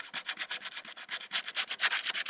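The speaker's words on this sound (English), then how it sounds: "The reason why you do wet sanding is so the paint doesn't cake up on the paper." Sandpaper rubs over a painted helmet during wet sanding in small circular strokes, a soft, rhythmic scratching of about twenty quick even passes, close and quiet, with no talking.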